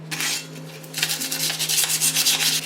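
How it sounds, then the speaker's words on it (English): A decoration is sanded with 100 grit sandpaper, and the paper rubs over the surface in quick back-and-forth strokes. The scratching is loud and close, with a short pause after the first strokes. "So we sanded him down, and now we're going to clean him off with a dry rag."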